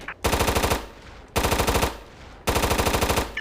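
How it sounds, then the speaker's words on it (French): Automatic gunfire from the video game SOCOM Fireteam Bravo rings out in three loud, rapid bursts of evenly spaced shots, each about a second long and separated by brief gaps. "On me tire dessus"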